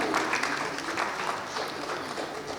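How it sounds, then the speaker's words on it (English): Audience applause for the speakers of a panel discussion on innovation in teaching and learning in Coimbatore, a brief burst of dense clapping that gradually thins out. "I request everyone to give a big round of applause to each and every speaker."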